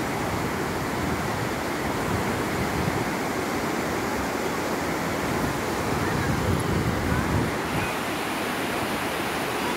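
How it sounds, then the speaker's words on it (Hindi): A river flows nearby with a constant, full rushing roar of water that stays even throughout, with no clear voices over it. "ये देखो नदी है"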